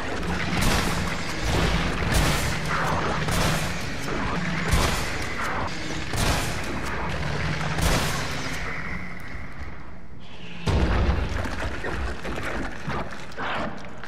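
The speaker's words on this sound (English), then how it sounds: "that took 6 shotgun shells to defeat a Hunter Gamma in standard mode anyway" An M3 shotgun fired repeatedly at a Hunter Gamma in Resident Evil 3 Remake, with a series of loud, booming blasts at a steady pace, mixed with creature noise and game effects and ending in a final heavy shot.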